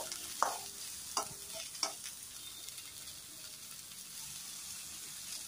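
Capsicum and soya chilli sizzle in a pan while a utensil makes three quick stirring scrapes, leaving a soft, steady frying hiss.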